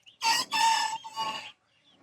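A rooster crows once nearby, a single drawn-out call broken into three parts, with quiet around it.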